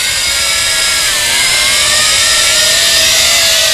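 A Tarantula X6 radio-controlled quadcopter with a 2.0-megapixel camera flies close by, its rotors producing a loud, steady high-pitched buzzing whine that shifts slightly in pitch throughout.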